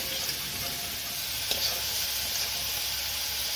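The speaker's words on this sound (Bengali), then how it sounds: "পনিরটা ভালো করে ভাজা হয়ে গেছে।" Paneer frying in oil in a cooking pan, giving a steady, even sizzle and hiss throughout with one faint clink partway through, close and moderately quiet.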